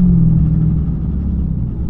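Dodge Hellcat with a broken transmission gives a loud, deep, steady rumble up close, a low droning tone that eases slightly partway through, with no voices.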